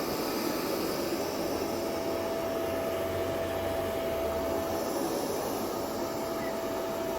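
Ecovacs Omni T90 robot vacuum running at home, a steady, fairly quiet broadband whir with a faint constant tone, continuous and unchanging from start to end.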